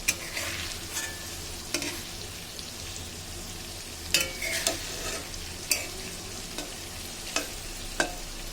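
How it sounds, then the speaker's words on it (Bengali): Hilsa fish fries in a pan for a mustard hilsa dish and is turned over slowly: a constant close sizzle, with a few sharp spatula clicks and scrapes spaced a second or more apart, and no talking. "এইবার আমি আস্তে আস্তে মাছগুলোকে উল্টিয়ে দেব।"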